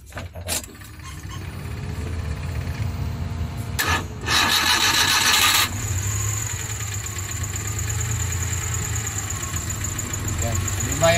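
A Suzuki DA52T cranks with a few short whirring bursts, catches and settles into a steady, close mechanical idle, while a voice speaks over the engine.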